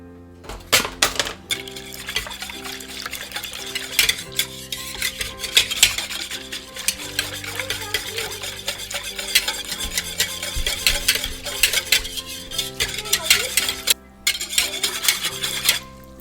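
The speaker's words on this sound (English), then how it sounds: "So I just whisked that together." A whisk beats ingredients in a bowl for a homemade pizza, rapid clinking and scraping against the bowl sides running steadily and fairly loud close by, with short pauses and a brief gap near the end, no voices.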